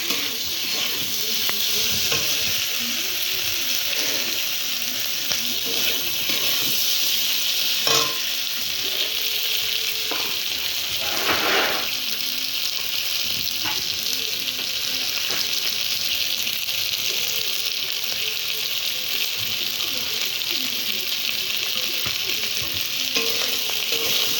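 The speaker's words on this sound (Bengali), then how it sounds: "সবজিটা ভেজে নিচ্ছি লাল লাল করে" Vegetables fry in a pan, browning with a steady loud sizzle, while a spatula stirs and scrapes at irregular intervals throughout.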